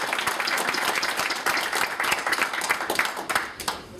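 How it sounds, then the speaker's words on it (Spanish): Audience clapping at a book presentation event, a lively burst of individual claps close by that gradually loosens and tapers off over a few seconds. "Vamos a darle un aplauso."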